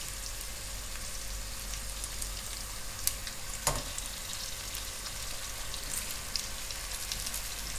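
Pieces of beef sizzle and fry steadily in a pot, a continuous crackling hiss with a few sharper pops and stirring clatters partway through.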